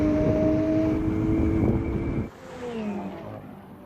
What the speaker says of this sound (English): The Lamborghini explodes off the line.